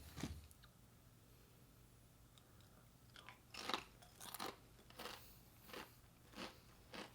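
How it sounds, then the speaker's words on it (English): Someone crunches on expired sweet paprika Pringles chips, made by Kellogg Europe, close to the microphone. A series of sharp, crackly bites and chews come at a steady rhythm in a quiet room with no talking. "That's a hard crunch."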